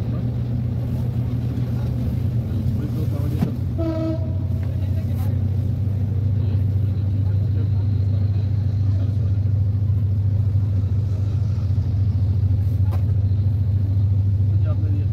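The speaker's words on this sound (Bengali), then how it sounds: "মালবাহী ট্রেন" A very long, slow freight train rolling past in Bangladesh, a heavy, continuous low rumble that holds steady throughout, with some voices faintly audible over it.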